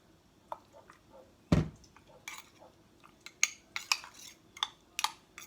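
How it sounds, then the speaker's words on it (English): Sugar and soy sauce are stirred in a bowl with a utensil, giving sharp, close clinks and taps against the sides along with wet squishing in an uneven rhythm, opening with one louder knock. "I'm just going to stir that all up, add a bit more soy sauce"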